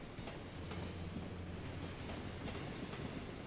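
Tram running on the purple line in the city-building game Cities: Skylines, a faint continuous rolling rumble with low wheel clatter, steady and distant.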